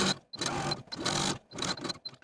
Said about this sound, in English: start my gathering stitches here at this top notch, using the longest stitch on my machine